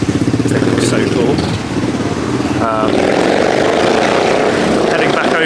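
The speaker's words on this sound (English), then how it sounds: "Some loud motorbikes going past." Loud motorbikes roar past nearby on a bridge in Menton on the French Riviera, their engines droning and rising in pitch as they go by.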